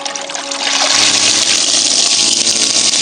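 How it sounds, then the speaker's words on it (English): A DasMorine 12V 750GPH marine shower sump pump runs loud and steady, water spraying and hissing with a low motor hum underneath, swelling after a brief softer start. "But powerful pump, runs well on 12 volts"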